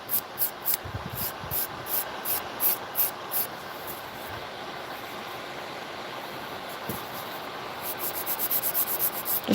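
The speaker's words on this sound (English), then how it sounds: "Now, I won't have to do a lot of filing. I'm just kind of shaping it really nicely." Rhythmic rasping strokes of a file shaping an acrylic press-on nail, a run of quick close passes at the start, a quieter stretch, then faster strokes near the end, with no talk.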